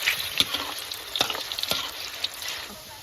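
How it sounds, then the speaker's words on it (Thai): Meatballs frying in boiling oil while being stirred, with a loud bubbling sizzle broken by repeated scraping and clattering strokes of the utensil. "น้ำมันเดือดแล้วเราใส่ลูกชิ้นลงไปนะครับ เราคนไปสักพักหนึ่งนะครับ"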